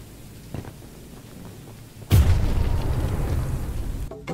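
Bomb blasting in the game Choo-Choo Charles, a sudden loud boom after a faint earlier thump, then a long rumbling decay that fills the rest of the moment.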